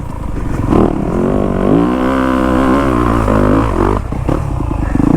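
Yamaha YZ250F dirt bike engine lugging at low revs in second gear through tight corners, a steady close thumping drone with brief throttle swells, no talk.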